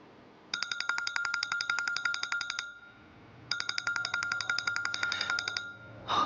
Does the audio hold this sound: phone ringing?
yes